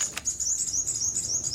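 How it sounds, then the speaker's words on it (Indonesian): A white-rumped shama (murai batu) chick chirps in quick, high repeated calls that run almost continuously, close and fairly loud, with no voices around. "trotolan anakan murai batu"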